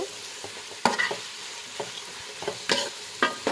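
Spices and rice being sautéed in ghee in a pan, a soft continuous sizzle broken by several sharp scrapes and knocks of a spoon stirring at an uneven pace, close up and with no voices.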